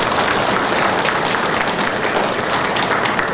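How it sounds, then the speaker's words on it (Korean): A church congregation bursts into loud, sustained applause in thanks, a thick wash of many hands clapping at once with no break and no voices. "다시 한번 감사의 박수를 주시고"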